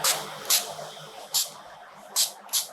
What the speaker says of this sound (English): I just added some water in a spray bottle, and I'm just going to spray water on the top